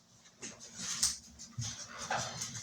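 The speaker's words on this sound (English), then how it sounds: "I gotta let the dog in." A dog being let in indoors, giving several short whimpers and whiny yips in quick succession, close and moderately loud with no talk over it.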